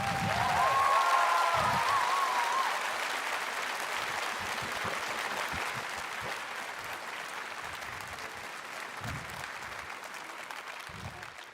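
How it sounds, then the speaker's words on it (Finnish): Applause from a convention audience for the main organisers at the Ropecon 2023 opening, a steady wash of many hands clapping that gradually thins and fades, with scattered low thumps and a brief voice near the start. "Raikuvat aplodit pääjärjestäjille."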